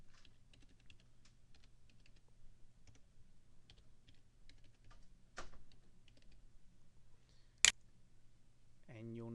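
Light typing of a password on a computer keyboard, a quick run of soft, quiet key clicks near the start over a faint hum, followed by a sharper click and a short spoken remark at the end.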